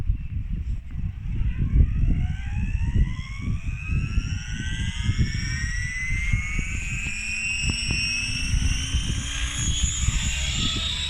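A radio-controlled model helicopter spooling up for takeoff before autorotation practice, its motor whine climbing steadily in pitch over a grainy rotor rumble, loud and close throughout.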